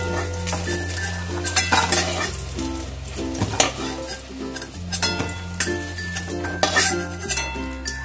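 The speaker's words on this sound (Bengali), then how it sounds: "এবার বেগুনগুলোকে নামিয়ে নিচ্ছি" Utensils scrape and clink against a pan as fried eggplant is lifted out, over a steady sizzle of frying oil, with irregular metallic knocks throughout.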